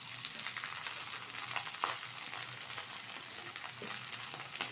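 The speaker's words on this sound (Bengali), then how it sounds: "এবার শুকনো লঙ্কাটা ভালোভাবে একটু ভেজে নেব।" Dried red chillies and grated coconut fry in oil for khichuri, giving a steady close sizzle and crackle with occasional stirring scrapes, no voices.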